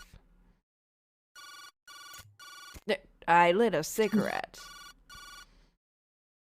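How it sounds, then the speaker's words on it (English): A cell phone rings in the detective video game Jake Hunter: Memories of the Past, with repeated electronic ring bursts in an even rhythm, clear and close, and a voice speaking briefly in the middle of the ringing. "then my cell phone sprang to life."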